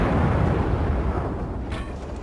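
Naval gunfire from a battleship in World of Warships: a loud, sustained low booming roar of a salvo that rumbles and slowly fades over a couple of seconds, with no voices.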